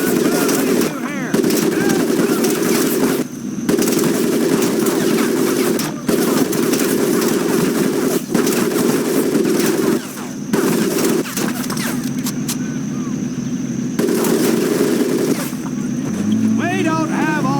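Machine gun fire rattles in long steady bursts over a muddy training course in Medal of Honor Pacific Assault, loud and nearly continuous, with brief gaps and a shouting voice heard over it.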